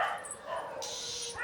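A dog barks and yips close by outdoors in a rural Indian home setting, a short excited burst of barking with faint background sounds.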